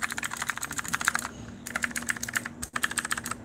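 Rapid keystrokes clatter on a Ducky Mini 60% mechanical keyboard, in bursts with short pauses between them, close and clear, with no one talking.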